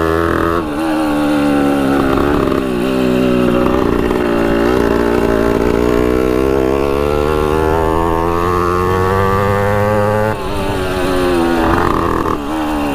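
A 1980s Honda CR80 two-stroke dirt bike, a cheap barn find with a slipping clutch, running loud and close throughout, its engine buzzing and rising and falling in pitch with throttle changes.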